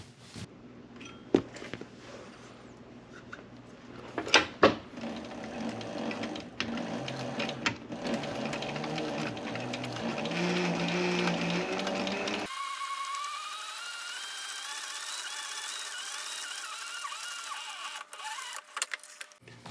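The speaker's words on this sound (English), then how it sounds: "now we'll head to the sewing machine and sew that one" A sewing machine stitches leather for a notepad cover in steady bursts, with clicks and a whirring motor, then a smoother continuous hum toward the end.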